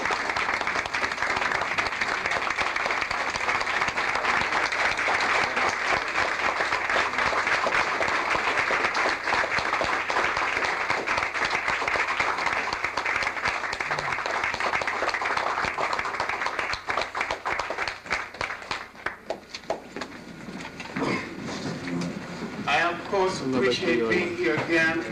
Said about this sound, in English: Let's stand up and give him an applause.